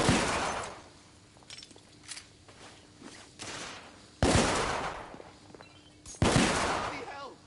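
Gunfire in The Order video game: a few loud, sharp broadband blasts with a quieter stretch of scattered shots and movement between them, and bursts returning near the end.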